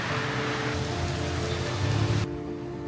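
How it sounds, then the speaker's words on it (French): Tropical rain pours steadily in Mexico as a dense, even hiss of drops hitting surfaces, then abruptly drops away near the end. "C'est notre première pluie tropicale depuis qu'on est arrivé."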